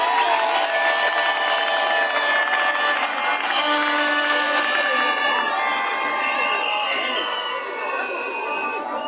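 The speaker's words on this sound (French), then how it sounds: "Je vous demande de l'applaudir très fortement." A large audience at a graduation ceremony bursts into loud, sustained cheering and shouting with clapping mixed in, a dense crowd roar that stays loud throughout.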